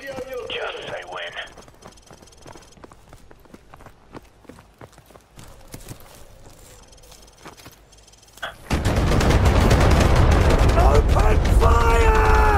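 Heavy gunfire breaks out in Call of Duty Modern Warfare after a quieter stretch with voices and light noises, then carries on as a loud, sustained barrage of shots.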